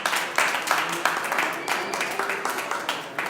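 A church congregation claps together in a short burst of applause, moderately loud with a pulsing, uneven rhythm across a few seconds.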